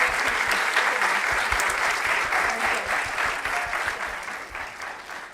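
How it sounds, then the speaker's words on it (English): A church congregation applauds children after their performance at a Sunday evening service, steady dense clapping filling the room from start to finish and easing slightly toward the end. "they deserve another round of applause"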